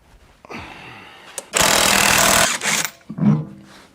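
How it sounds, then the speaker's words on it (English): A pneumatic impact wrench hammers on a coilover bolt of a Hot Rod Yugo, one loud burst of rattling lasting about a second, framed by quieter clanks of metal and tool handling. "Tighten the bottom bolt. Get it really tight."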